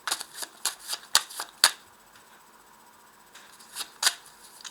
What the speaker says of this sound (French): Alors on va ajouter ici des cartes.